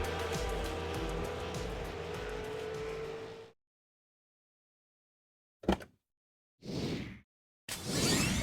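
A V8 Supercars Commodore on a hot lap at Oran Park in iRacing roars at high revs with steady engine tone, then cuts to silence before short bursts of engine and whooshing return.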